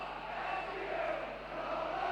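Football crowd roaring and cheering at Dens Park during a Dundee versus Aberdeen League Cup tie, a dense, sustained wall of noise from a packed stadium.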